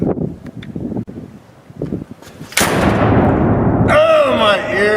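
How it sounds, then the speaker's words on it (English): Strong wind blasts the microphone in a steady roaring gust that cuts in abruptly, following quieter movement and faint talk, then shifting into a whistling, fluttering rush near the end. "Ooh, windstorm again"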